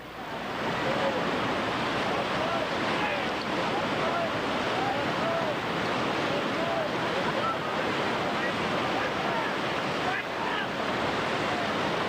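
Rushing whitewater on the Gully River roars continuously during a rafting trip, a loud, steady wash of rapids with wind noise on the microphone.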